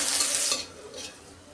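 Sliced onion hits hot oil in a pan for a fish curry tempering, a loud burst of sizzling that quickly settles into a softer, fading fry.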